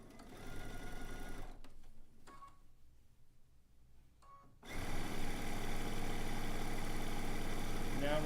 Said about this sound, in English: getting these 2 rows sewn together, these 2 vertical rows